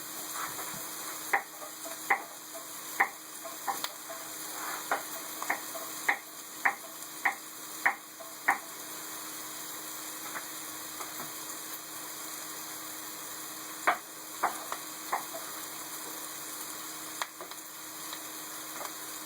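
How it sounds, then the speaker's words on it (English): Jalapenos and onions fry in a pan for carnitas tacos, a faint continuous sizzle broken by scattered sharp ticks and pops, some in quick runs, with no voices. "the reason why you want to cook your jalapenos and your onions first"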